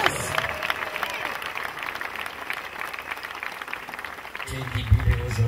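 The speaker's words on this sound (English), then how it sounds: "Clap for Master Jesus Christ." Congregation clapping at an evangelical crusade in Douala, Cameroon, a steady wash of applause with crowd noise throughout and a louder burst near the end.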